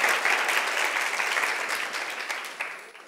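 At a community gathering in a Buddhist vihara in Kamthi, the audience gives a hearty round of clapping for a child's correct answer, loud and dense at first, then gradually thinning and fading toward the end.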